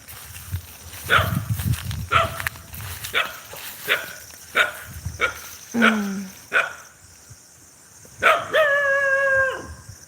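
A dog barks repeatedly in short, spaced yelps, ending in a drawn-out howl, moderately close, with faint outdoor noise behind.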